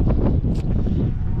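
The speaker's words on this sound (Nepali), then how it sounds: "हावा पनि त्यस्तै स्पिडमा चलिरहेको छ" Strong cold wind blows on a mountain road to Mustang during a motorbike ride. It buffets the microphone in a constant low, rumbling roar with gusty fluctuations, loud and close throughout.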